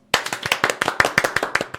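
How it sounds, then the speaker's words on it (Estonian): A small audience gives a brief round of applause, with about a dozen sharp, evenly spaced claps close by and no talk over them. "Kusjuures tõuseks praegu püsti, teeks väikse aplausi."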